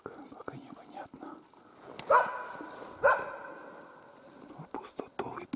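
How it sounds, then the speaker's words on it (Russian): Two loud dog barks about a second apart stand out over rustling and quiet murmured speech, with faint movement noises around them, in a pine forest during a capercaillie hunt in Komi, Russia. "В пустоту, видимо, лает."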